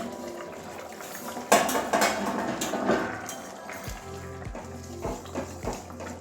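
A metal lid comes off a pot of egg curry with capsicum and potato: a sharp clank of metal on metal, then a few lighter rattles and taps of cookware, heard close with no talk.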